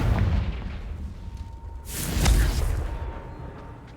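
A Confringo fire spell bursts in Hogwarts Legacy: after a low rumbling lead-in, a bright whooshing blast swells and then decays into a fading rumble, loud and close, with no voice over it.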